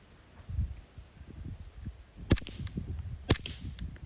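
A B&T Print-X .22 pistol fires auto match ammunition, heard from the side. Two sharp, fairly quiet cracks ring out about a second apart over low rustling background noise, with no talking.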